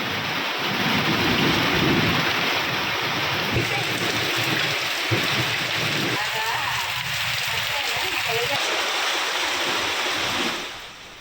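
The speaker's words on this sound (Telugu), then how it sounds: "ఉరుములు, ఈదురుగాలులతో కూడిన వర్షం పడింది." Heavy rain pours down in Telangana during a storm with gusty winds and thunder, a dense, loud, unbroken roar of falling water that fades out at the very end.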